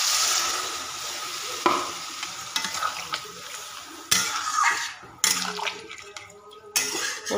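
Water poured into a pan of frying vegetarian curry on a gas stove, sizzling loudly in bursts, with stirring and pan clatter throughout.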